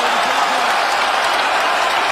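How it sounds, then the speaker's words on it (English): UFC fight crowd cheering and applauding on its feet after the bout, a dense, loud wash of clapping and roaring that fills the whole moment. "This crowd is on its feet."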